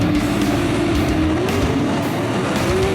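Non-wing sprint cars racing at green flag in a heat race on the dirt 281 Speedway, a continuous loud, dense engine roar with wavering pitch as the pack runs together, no commentary audible.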